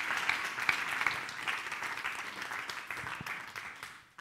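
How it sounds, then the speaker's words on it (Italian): An audience at an experiential conference claps for several seconds, a dense, steady applause that stays fairly even before tapering off at the end. "Fategli un applauso."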